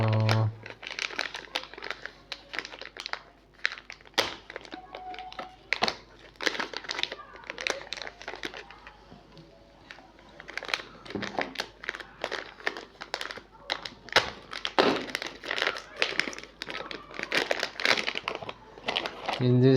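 Anti-static bags holding test bench power supply parts are crinkled and crumpled by hand while being unboxed, giving close, loud bursts of crackling plastic that stop and start, with someone talking intermittently between them.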